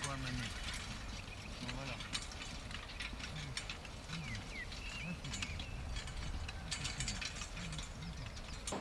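Kassine animal-drawn tool being adjusted on its notched ratchet bar: faint repeated ratcheting clicks and metal knocks under steady outdoor background noise, with a voice talking.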